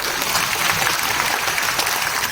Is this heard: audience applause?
yes